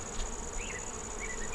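Honey bees buzz around a small hive, a steady faint drone with a few louder insects passing nearby, no voices.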